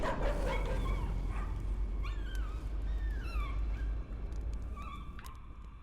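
In the Layers of Fear horror game, a dog yelps and whines in rising and falling cries, several short yips spread over a steady, heavy low rumble of background ambience.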